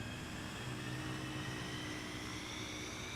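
A steady, dense roar of an F-15 jet engine running up in Microsoft Flight Simulator. It holds at a constant loud level for the whole stretch, with a continuous whine layered over a low rumble and no speech.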